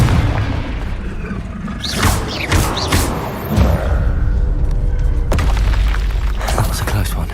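Blasting spell explosion in the video game Hogwarts Legacy: a loud boom with thuds and bursts, followed by further heavy impacts and rumbling over a constant game background.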